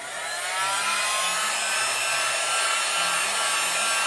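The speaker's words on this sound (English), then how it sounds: "take our blow dryer, and we're just gonna quick dry this fast" A blow dryer runs steadily and loudly for several seconds, drying acrylic glaze on an abstract boat painting; a continuous broadband whoosh with a low motor hum underneath.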